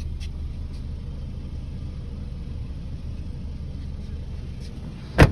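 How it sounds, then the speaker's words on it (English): A 2005 Toyota RAV4 L idling at a used car dealership gives off a low, steady engine rumble, heard close and unchanging for several seconds, ending in a brief sharp knock or thump. "The vehicle is running."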